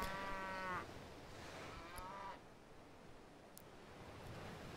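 Cattle in Civilization 5 give two low, drawn-out moos one after the other over a steady wash of wind and surf-like ambience, soft and somewhat distant.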